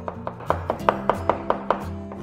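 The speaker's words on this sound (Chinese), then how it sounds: "切成蒜末" A kitchen knife taps out a steady run of about a dozen sharp chops on a cutting board, mincing smashed garlic cloves into fine bits, close and crisp with no talking.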